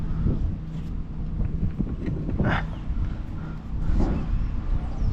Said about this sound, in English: It's super windy out here. I mean, crazy windy right now.